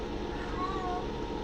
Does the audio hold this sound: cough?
no